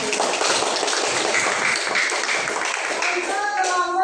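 A classroom group claps together in a dense burst of applause that holds steady for several seconds, with children's voices rising briefly near the end.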